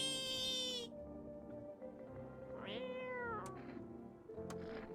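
A cat meows twice in a video game, a drawn-out rising-and-falling call followed by a shorter one, heard over steady background game music with no talking.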